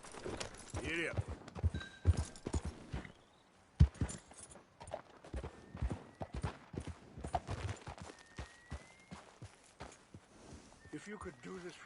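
Hooves clip-clop in a steady walking rhythm as a horse is ridden in the video game Red Dead Redemption, close and clear, with a sharp thud partway through and scattered sounds of the game world around it.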